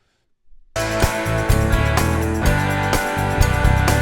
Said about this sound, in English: Now here it is in the chorus where you really hear both guitars strumming.